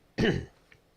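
A single throat-clearing cough, short and close, followed by quiet with a faint small sound afterward.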